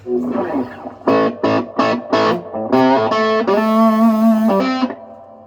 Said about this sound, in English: Got nice reverb now.